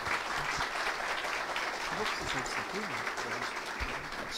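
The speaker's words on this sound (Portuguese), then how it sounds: "Uma salva de palmas, por favor." A lecture audience in Brazil applauds Dom Luiz Philippe de Orleans e Bragança with steady, dense clapping throughout, while faint voices murmur underneath.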